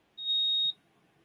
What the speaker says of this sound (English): my phone was giving me a notification